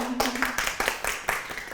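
Audience applause at a game show, a short burst of irregular hand claps at moderate distance, with a voice briefly heard at the start.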